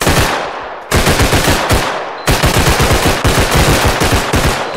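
Rapid automatic gunfire rattles in the shooter game Bodycam, with loud, close bursts of machine-gun fire running almost continuously and only brief breaks between strings of shots.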